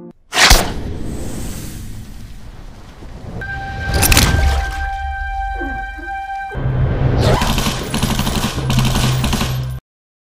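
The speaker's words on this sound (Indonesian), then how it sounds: "suara tembakan membuatnya waspada" Gunshots from a film fight scene ring out as a few sharp, loud bangs spaced apart, separated by tense low rumbling and a sustained tone, ending in a burst of louder noisy action before cutting to silence.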